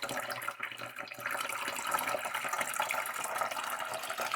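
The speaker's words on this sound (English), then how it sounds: "We will water this through here." Water pours from a pitcher into the soil of a freshly repotted Alocasia plant, a steady, close splashing and trickling stream that runs continuously after a brief dip near the start.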